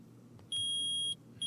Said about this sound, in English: Permit the use of the metal detector.